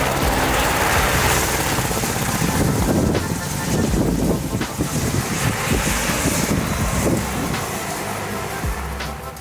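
An Airbus AS350 helicopter hovering during engine failure training, a loud, close, steady rotor and engine roar with heavy wind buffeting, easing slightly toward the end, with a voice partly audible beneath.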